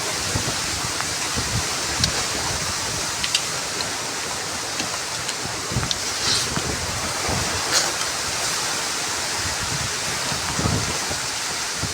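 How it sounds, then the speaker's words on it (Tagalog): Strong wind roars continuously outdoors, a dense rushing noise with occasional gusts and faint clicks, no talking heard. "Kusog na kayong hangin rin mga bay."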